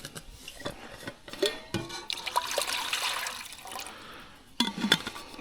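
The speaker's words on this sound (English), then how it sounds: "Put the water in the pot." Water is poured into a cooking pot at an outdoor camp while yabbies are prepared, with splashing, trickling bursts broken by brief clinks of the pot and short pauses.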